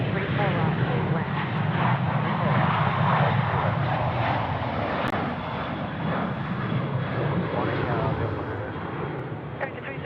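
A jet airliner landing on runway 34 right at Sydney Airport, a steady broad engine roar held at moderate distance for the full stretch, with people talking and radio chatter over it.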